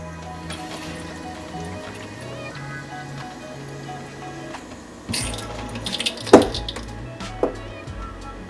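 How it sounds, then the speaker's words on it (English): Under-sink water filter tubing and quick-connect fittings creak as water pressure builds after the supply is turned back on, a low hum and quiet running water broken by several sharp creaks and knocks near the end. "That creaking sound was the water pressure building up and I believe locking the tubing into the quick connect fittings."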